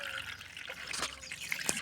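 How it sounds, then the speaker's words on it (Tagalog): Water being poured into a container, a short stretch of irregular trickles, drips and small splashes, close and fairly faint, with no talking. "kukuha na tayong tubig"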